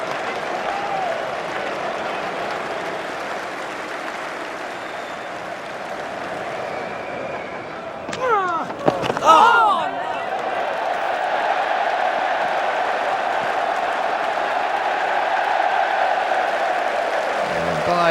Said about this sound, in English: the crowd is going absolutely berserk